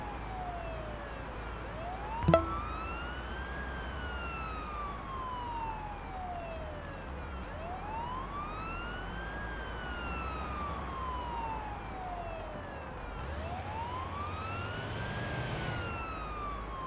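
An ambulance siren in a paramedic simulator game wails, sweeping up and down in long, repeating cycles, loud and steady over engine rumble, with a brief sharp knock early on.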